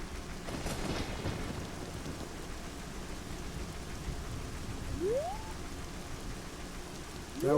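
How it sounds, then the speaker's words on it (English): Steady, constant rain pours down in the game Ocarina of Time, with a soft rumble of thunder in the background. Two brief whooping tones break through the downpour near the middle and at the end. "Now we got a permanent rainstorm"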